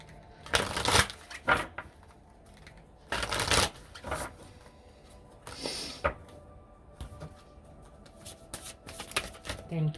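Gaia oracle cards are shuffled in several quick riffling bursts, close and moderately quiet, separated by softer handling rustles.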